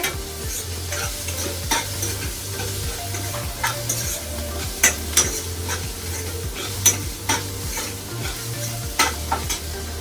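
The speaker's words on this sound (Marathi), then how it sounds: "दोन मिरच्या कापलेल्या टाकते त्याच्यानंतर एक टमाटो कापलेले टाकते चांगलं पिरवून घेते" Chopped green chillies and tomato stirred in a hot frying pan for a traditional Marathi pithla-bhakri meal: a steady sizzle with repeated scraping spoon strokes against the pan, close and fairly loud, no voices.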